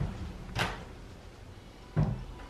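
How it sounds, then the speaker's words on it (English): Sliding doors in a modern Japanese countryside home in Iwakuni, heard as two separate soft knocks or thuds about a second and a half apart in a quiet room. "And then of course the sliding doors."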